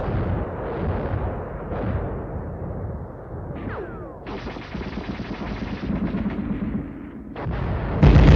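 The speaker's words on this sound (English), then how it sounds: "Our machine gun covers the advance." A machine gun fires in a combat training film set in deep snow and extreme cold, with loud, dense, sustained bursts of rapid shots that continue almost without pause and surge louder toward the end.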